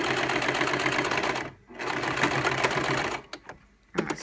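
A sewing machine stitches a fabric strap with edges ironed flat, running in a steady fast whir that breaks off briefly twice and stops near the end before starting again.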